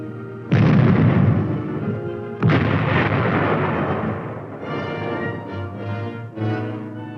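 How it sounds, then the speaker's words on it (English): A 105mm howitzer firing directly at close range in support of armored troops, two heavy booming blasts a couple of seconds apart, each with a long rumbling decay, followed by lingering mechanical rumble. "105mm howitzer provides support from close range for the armored team."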